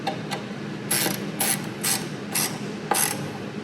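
A ratchet wrench tightens bolts while a wet belt sander is assembled, producing five or six short, sharp clicking bursts in an uneven rhythm, close up over a quiet background hum.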